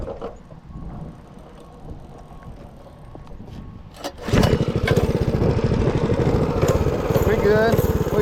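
A 212cc 6.5HP minibike engine on a Real Tree RT100 minibike is pulled to start around four seconds in, then runs with a loud, steady, rapid putter that continues to the end, after quieter handling noise.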